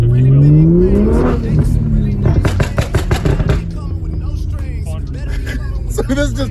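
A 2JZ-swapped Mitsubishi Colt making about 450 wheel horsepower revs hard, a rising engine note giving way to rapid, loud gunshot-like cracks and pops, with people talking over it.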